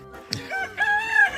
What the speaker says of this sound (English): we got a chicken in there now